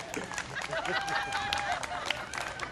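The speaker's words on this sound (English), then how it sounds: "Round of applause right here." A crowd at an Earth Day rally breaks into steady applause and cheering, a dense wash of clapping mixed with excited voices and whoops that holds fairly loud throughout.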